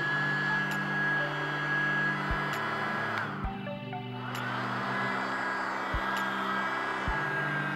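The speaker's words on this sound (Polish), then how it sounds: "odpalimy odkurzacz podłączając do portu USB i zobaczymy czy działa" A cheap mini USB vacuum cleaner from AliExpress runs at close range with a steady, even electric whir and hum that holds for the whole stretch, with a few small clicks and bumps along the way.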